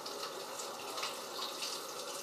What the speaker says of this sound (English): We run that kiwi under the hot water